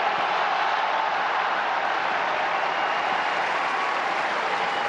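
A large crowd applauds and cheers the new pope, a dense, continuous wash of clapping heard at a distance, steady and undiminished throughout with no individual voices standing out.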